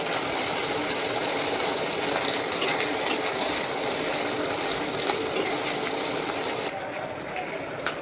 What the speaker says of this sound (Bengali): এখন এই পেঁয়াজ কুচিটা ভালো করে একটু ভেজে নেব।